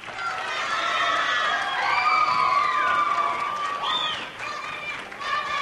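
Studio audience on a 1998 Italian television show cheering and shouting for Sardara, a lively crowd roar with high excited voices rising and falling, mixed with scattered clapping.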